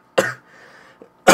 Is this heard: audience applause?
no